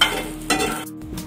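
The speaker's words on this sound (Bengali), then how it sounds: "এই পাশে কাঁচামরিচ দিছি আর এই পাশে হচ্ছে রসুন দিছি ভাজার জন্য" Green chillies and garlic sizzle in a frying pan while being stirred, a brief close-up burst of frying with scraping stirs.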